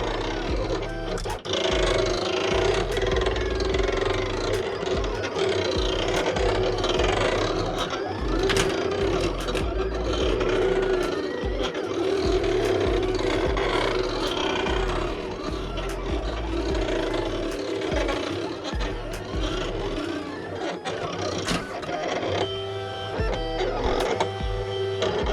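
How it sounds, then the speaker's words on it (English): A Silhouette Cameo 4 Plus cutting machine works steadily, its carriage motor whirring and shuttling back and forth in a continuous, fairly loud mechanical hum with no talk over it. "really quick while the machine is still cutting"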